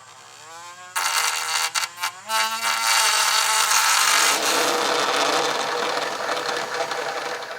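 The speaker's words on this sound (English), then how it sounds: "with a combination of my Dremel and grinding wheel, I'll get this notched out" A Dremel rotary tool fitted with a grinding wheel notches metal for a Curt Class I trailer hitch on a 2025 Toyota Camry, giving a loud, continuous high whine that holds steady after a few brief bursts.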